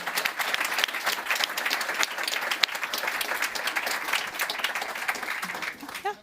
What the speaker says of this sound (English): I would like to just raise a hand of applause for all of you